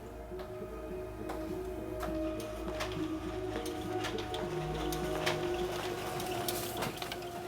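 An office copier printer runs and prints out pages, with a steady mechanical whir and rhythmic ticking, clunking feed sounds at irregular intervals, fairly close with no voices.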